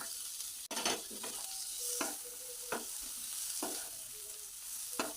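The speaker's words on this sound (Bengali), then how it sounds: "টমেটোটা যতক্ষণ না নরম হয়ে আসে ততক্ষণ নাড়ব" Chopped tomato and ginger paste frying in a pan for a river crab curry, with a steady soft sizzle broken by several distinct scraping strokes of a spoon stirring, close and clear with no talk.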